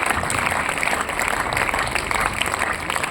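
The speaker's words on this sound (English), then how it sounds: "Please give them a big round of applause." A classroom audience claps for students after a math quiz answer, steady dense applause running throughout at moderate loudness with no voices over it.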